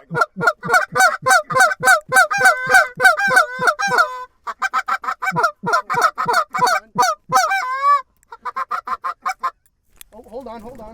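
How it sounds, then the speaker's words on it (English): A flock of geese honks loudly as it flies in, a rapid run of repeated nasal calls in bursts with short gaps, close and overlapping, fading to a few fainter calls at the end. "we got geese out"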